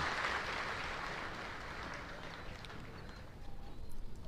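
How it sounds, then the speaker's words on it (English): A large outdoor crowd at an Army basic training graduation ceremony applauds retirees and their families, producing a broad, distant, steady patter of clapping that swells slightly near the end. "Please join me in another round of applause for our retirees and their families."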